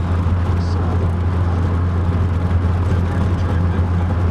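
A Pontiac Fiero drives along Route 66 between Chicago and Joliet, its engine a steady low drone with road rumble that stays loud and constant inside the car.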